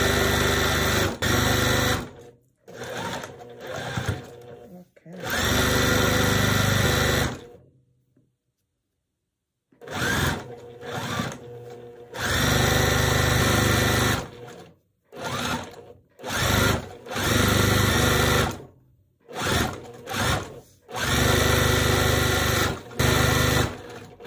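Sewing machine stitching quilt block units together, close and loud, in many bursts of varying length with brief stops and one longer silent gap.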